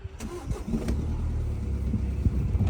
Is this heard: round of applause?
no